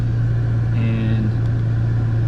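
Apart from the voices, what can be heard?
Toyota Tacoma truck engine running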